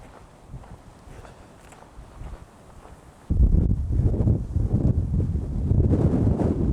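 Strong winter wind buffets the microphone on a Lake Michigan shore, a low steady rumble that jumps sharply louder halfway through and stays as a heavy, roaring gusting roar with possible footsteps.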